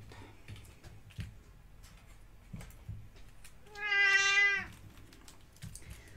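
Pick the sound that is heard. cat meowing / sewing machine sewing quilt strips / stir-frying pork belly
cat meowing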